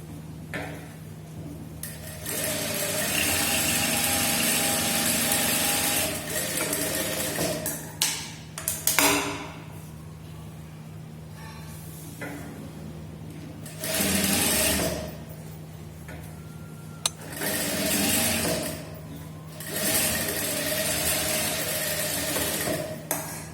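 A sewing machine stitching the front panel of a blouse, running in long steady whirring bursts separated by pauses with clicks and handling of fabric, close and loud with no talk.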